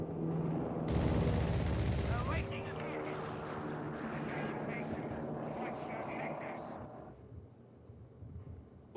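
Airstrike and artillery bombardment in the WWII strategy game Company of Heroes 3: a loud roaring barrage with heavy gunfire early on, then rumbling blasts and scattered shots that fade toward the end, with voices talking over it.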